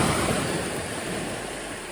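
Cold East Coast ocean water lapping and washing against a dock in Boston, a steady close rush of water with no voices.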